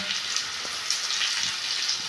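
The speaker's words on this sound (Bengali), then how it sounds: "পেঁয়াজটা যাতে একটু ব্রাউন কালার হয় সেই জন্য আমি একটু পেঁয়াজটাকে ভাজা করে নেব" Steady, close sizzling of onions frying in a hot pan until browned, a constant hiss with faint crackles and no voices.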